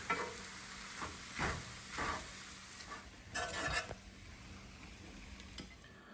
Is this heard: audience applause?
no